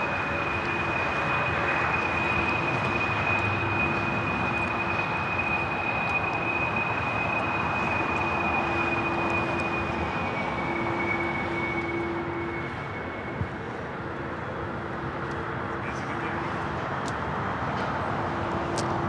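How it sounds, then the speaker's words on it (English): A United Boeing 787 Dreamliner from Newark arrives at LAX with a sustained jet roar and steady whining engine tones that hold for most of the stretch, fading slightly near the end, with almost no talk. "Next arrival is a United Dreamliner from Newark"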